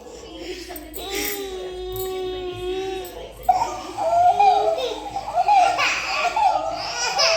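A small boy cries just after waking, wailing and whimpering in rising, sobbing bursts at moderate loudness, with an adult's voice talking over part of it.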